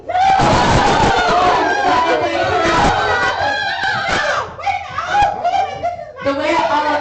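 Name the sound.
live gameshow audience screaming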